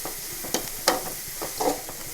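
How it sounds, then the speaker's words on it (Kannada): Soya chunks and onions fry in a pan, a steady close sizzle broken by a few louder scraping strokes as they are stirred, with no voices. "ನಾವು ತಗೊಂಡಿರುವಂಥ ಇಲ್ಲಿ ಈರುಳ್ಳಿ ಸ್ವಲ್ಪ ಕೆಂಪಗಾಗುವಷ್ಟು ಹುರಿಬೇಕು ನಾವು ಇದನ್ನು"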